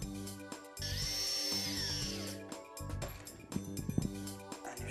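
A power drill whirs as it drives cam fittings into a furniture base unit, a steady motor hum under a rising whine, with brief pauses and changes in pitch as the load varies.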